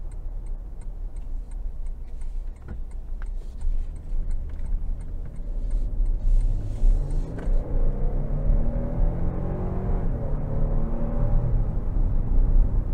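A 2022 Toyota Tundra SR5 TRD Sport with the 3.5-liter twin-turbo engine accelerating out of a corner in sport mode, heard from inside the cab: a low engine rumble rises in pitch with quick gear shifts under a repeating ticking.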